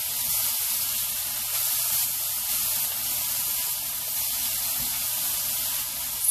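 Onions and peppers sizzle steadily in a cast iron pan with hot oil and curry, a loud, constant hiss of frying held close with no talk over it.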